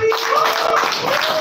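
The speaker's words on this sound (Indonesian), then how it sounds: "Tepuk tangannya untuk Bapak Widodo." Audience applause for an employee honoured for 25 years of service at a company anniversary ceremony, steady dense clapping filling the short moment, fairly loud and continuous with a faint tonal hum beneath.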